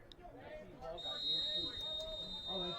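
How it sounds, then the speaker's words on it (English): A referee's whistle at a soccer match between FC Motown and Atlantic City FC, a steady, shrill tone held for about two seconds over crowd murmur and a commentator's voice. "that whistle means we are underway."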